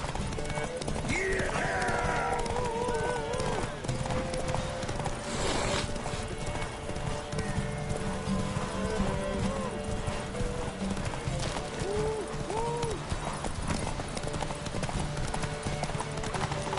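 Roach the horse gallops hard in a race in The Witcher 3, with rapid clip-clopping hooves throughout, a few neighs and whinnies, and game dialogue and music layered over the steady pounding rhythm.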